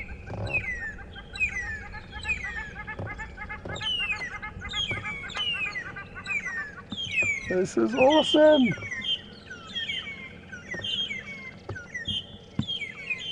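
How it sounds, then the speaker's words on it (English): Burchell's starling squawks loudly at close range amid a busy morning chorus of repeated bird calls and chirps on a safari drive, with a voice speaking briefly over the birds. "Now I can hear a Birchall starling squawking."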